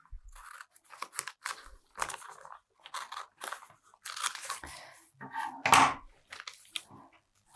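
Scissors trimming paper along a fold line, a series of short, crisp snipping and crunching cuts in irregular bursts, close and fairly quiet, with no voices.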